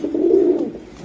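A golden pigeon gives a single loud, close coo, one sustained rolling call that swells and then fades away.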